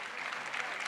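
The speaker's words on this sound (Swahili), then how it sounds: "makofi tafadhali" A brief burst of crowd applause at a gathering, faint and distant, a dense patter of many hands clapping with no clear gaps.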